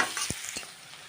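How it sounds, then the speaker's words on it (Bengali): A few curry leaves crackle in hot oil for a short moment, a soft sizzle with a couple of light scrapes from a spatula. "কয়েকটা কারি পাতা দিলাম, তাহলে ভালো একটা স্মেল বেরোবে।"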